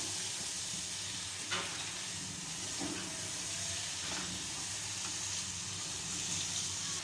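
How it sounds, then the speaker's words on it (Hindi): Masala frying in a pan for a ridge gourd sabzi, a continuous low sizzle and hiss with occasional soft stirring scrapes, steady and moderately quiet. "इसको अच्छी तरीके से भून लीजिए आप।"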